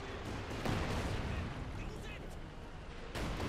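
Katyusha rocket artillery fires in Company of Heroes 2, a dense rumbling barrage of launches and impacts under a commentator's voice, with battlefield noise throughout.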